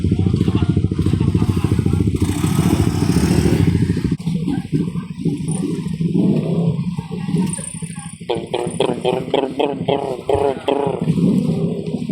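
Motorcycles rumble and rev aboard a crowded passenger ship, a loud engine drone at first giving way to clattering and scraping, with people talking over the mechanical noise throughout.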